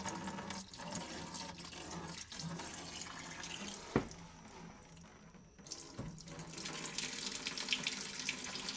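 Coolant pours and hisses steadily out of the cooling system of a 2016 Chevy 5.3 after the radiator reservoir cap is opened, with a couple of brief clunks partway through. The sound is close and continuous.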